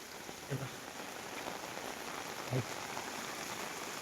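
Heavy monsoon rain pours steadily onto a sheet-metal roof in a dense hiss, broken by two soft thuds of larger drops, during flooding of the Nira River.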